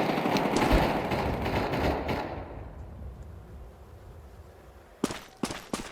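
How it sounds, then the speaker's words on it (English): A flashbang grenade detonates in Counter-Strike 2 with a loud, wide burst that fades away over about two seconds. A few sharp, separate clicks and thuds follow. "Deploying flashbang."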